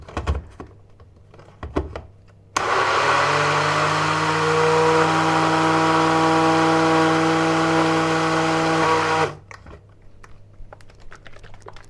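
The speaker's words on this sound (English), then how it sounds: "We can blend that." A blender whirs loudly and steadily for about seven seconds, blending thick Dukan bread batter made with cottage cheese, with quieter handling knocks and clatter before and after.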